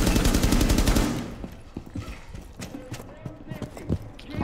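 Gunfire in a shooter video game: a loud burst of rapid automatic shots for about a second, then a few scattered sharp reports and clicks while people talk over it.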